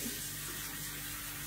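Water running steadily from a tap into a kitchen sink while dishes are washed with hot water, a continuous broadband rush heard close and alone.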